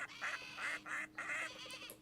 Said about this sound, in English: these sound like ducks for some reason